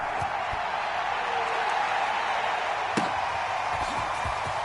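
Sellout stadium crowd roaring in a Madden NFL game as the Falcons take the field against the Cowboys, a steady, dense wall of cheering with scattered sharp claps and thumps throughout.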